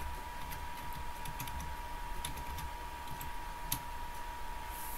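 Fingers tap quick, light clicks on a computer keyboard in short bursts over a faint steady electrical hum, close and quiet with no voices.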